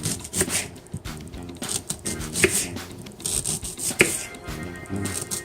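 An onion, outer skin removed, being chopped with a knife on a board; a close run of quick, uneven cuts and soft taps with light rubbing sounds between strokes, no speech.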